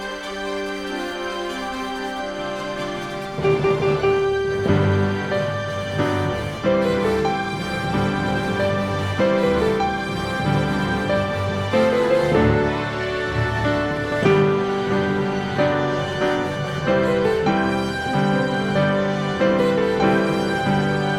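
Solo piano plays a theme with chords underneath, starting softly and becoming fuller after a few seconds, steady and unaccompanied.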